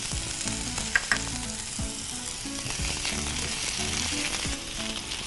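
Red, yellow and green bell peppers stir-frying in a pan for a Thai sizzler: close, continuous sizzling with repeated spatula scrapes and a couple of sharp clinks against the pan, no voices.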